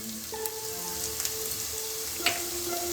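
Country chicken frying with turmeric in a pan, a soft steady sizzle and crackle with a couple of faint stirring clicks and scrapes, quiet and close with no talking.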